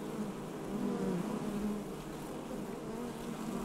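Honey bees at a beekeeper's hives make a continuous, steady, droning buzz, moderately loud and close, with no speech.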